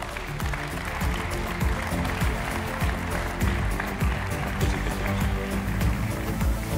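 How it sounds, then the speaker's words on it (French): Audience at a building and real-estate awards ceremony for social housing applauding prize winners, a loud continuous roar of many hands clapping throughout. "On peut les applaudir."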